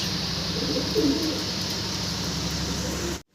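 Fancy pigeons cooing at a loft sale, a steady low coo rising briefly near the one-second mark over a constant background hum, with no talk.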